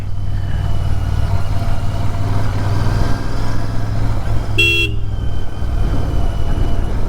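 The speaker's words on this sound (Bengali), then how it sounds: "তার মাঝখানে আমি হর্ন দিতে যাচ্ছি" A single short car horn honk sounds about two-thirds through, over a steady low rumble of a vehicle engine and road noise on a shaded road near Darjeeling.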